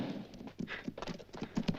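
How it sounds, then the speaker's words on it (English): Two horses carrying riders approach at a trot, their hooves beating a steady, fairly close clip-clop rhythm outdoors in a Western film scene. "Hey, Butch, here come two riders."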